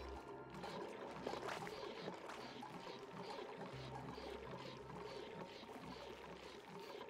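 Salt water pours steadily in the Oxygen Not Included video game, a continuous soft gushing trickle with a low, pulsing hum beneath it throughout.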